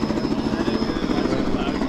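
A hired tour helicopter near Rio's Christ the Redeemer flies close by, its rotor beating in a fast, steady, loud chop throughout.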